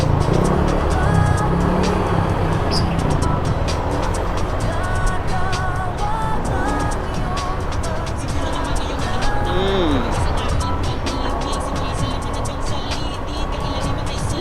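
Steady road traffic rumbles continuously at moderate volume, a dense wash of car engines with occasional passing vehicles, while people talk over it.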